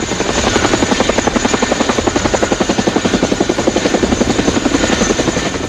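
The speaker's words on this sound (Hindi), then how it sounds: "अमेरिका से भारत को मिले चिनूक हेलीकॉप्टर" Chinook helicopter in flight, a loud, continuous rotor chop with rapid rhythmic pulsing and a steady engine drone, close and dominant throughout.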